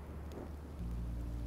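Rain in the Minecraft Story Mode video game: a faint, steady patter of rain with a low thunder rumble that swells partway through, no voices.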